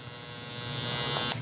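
A Babyliss FXONE trimmer with a brushless motor runs steadily and close, giving a continuous electric buzz with no voices over it.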